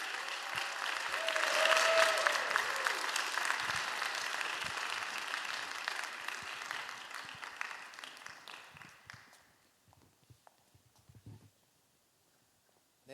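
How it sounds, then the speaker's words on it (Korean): A church congregation at a young adults' Sunday worship service applauds to welcome a newly married couple, with loud sustained clapping that peaks early and then fades out toward the end. "우리 축하의 박수로 맞이해 주시기 바랍니다."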